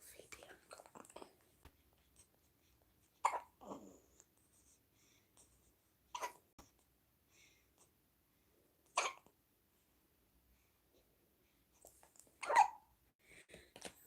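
A six-day-old newborn hiccups at intervals of about three seconds, each one a short sharp catch, with soft whispering voices between them in a quiet room.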